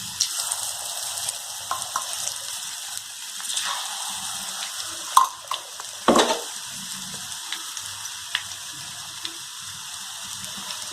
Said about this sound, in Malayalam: നല്ലതുപോലെ ഫ്രൈ ആയി വരട്ടെ